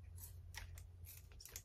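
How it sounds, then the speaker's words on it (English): Quiet, crisp snips of scissors that are failing to cut, a few irregular strokes close up over a low background hum. "Those scissors aren't cutting."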